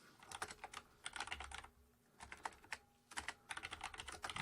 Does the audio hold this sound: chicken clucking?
no